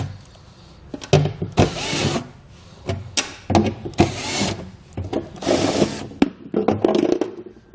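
A drill backs fasteners out of the aluminum bed of a 2017 Ford truck, heard as a series of short, close whirring and rattling bursts separated by brief pauses.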